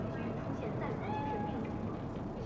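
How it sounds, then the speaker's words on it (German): A cat in Cyberpunk 2077 gives a soft, drawn-out meow, faint under a dense wash of steady ambient game noise, with speech nearby. "Chill mal. Ist nur eine Katze."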